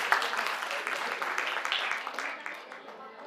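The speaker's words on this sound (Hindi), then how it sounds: "जोरदार तालियों से स्वागत करें।" Applause welcomes a speaker at a community gathering, a moderate burst of many hands clapping that gradually thins and fades out.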